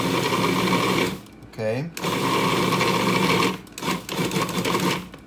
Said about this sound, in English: when you do it in the food processor